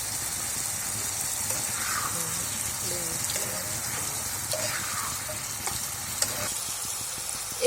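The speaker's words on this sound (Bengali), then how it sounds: "এর ভেতরে 5টা কাঁচামরিচ দিচ্ছি আমি।" Chicken biryani frying in a pan as five green chilies are dropped in, giving a steady broad sizzle throughout with occasional stirring scrapes and clinks, no voices.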